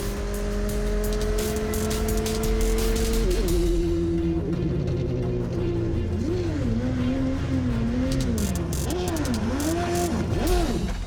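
A Radical SRT race car brakes into a corner, its engine note holding steady and then dropping and wavering as it slows, with a close mechanical whine and possible tire noise over a constant loud drone.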